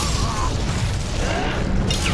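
An Incendio fire spell bursts in Hogwarts Legacy, a dense rumbling whoosh of flame with heavy low-end roar and crackling mechanical clatter, loud and sustained.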